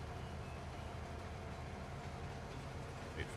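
Steady low rumble of a train in the Farming Simulator 25 video game, a continuous rolling noise with no speech over it.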